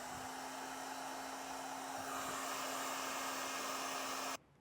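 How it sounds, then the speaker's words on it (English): Heat gun blowing a steady, loud hot-air rush to shrink thick heat-shrink tubing over wire ends while setting up a Roadmaster automatic battery disconnect on a 2024 Chevrolet, running continuously before cutting off near the end. "we'll come back with our heat gun and seal it up"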